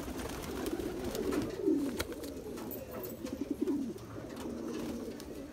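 Pigeons coo in low, rolling, repeated calls, several birds overlapping at close range against a faint background hum. The birds are a breed of pigeon with twelve tail feathers.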